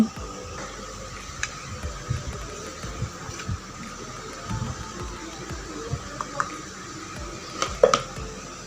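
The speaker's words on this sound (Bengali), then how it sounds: "এখন একটি চামচ দিয়ে আমি হালকা করে চেলে নিব" Flour being sifted with a spoon for homemade salted bakery-style biscuits, a soft scraping and tapping texture with faint metallic clinks of spoon against sieve and bowl, close and steady throughout.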